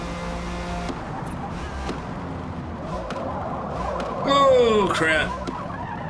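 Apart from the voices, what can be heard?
car tyres skidding after braking late, Forza Motorsport video game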